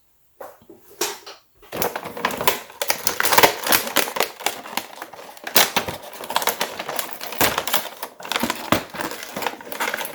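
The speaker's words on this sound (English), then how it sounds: "let's tear it open and see what's in the box" Cardboard packaging of an Amcrest GO 4K sports action camera box being torn open by hand, with a dense run of close, loud ripping, crinkling and rustling bursts lasting several seconds after a brief quiet start.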